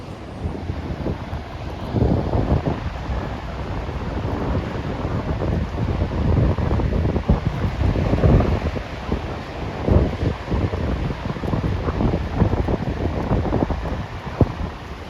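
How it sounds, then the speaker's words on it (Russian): Ocean waves at Caparica beach in Portugal roll and wash continuously, with steady wind buffeting the microphone into a rough, loud roar that surges and eases over fifteen seconds. "А здесь волны просто постоянно."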